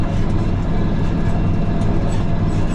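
A farm tractor engine pulls hard across a muddy field while cultivating pivot ground in Montana, giving a steady, loud, low rumble with constant drone and no talk over it.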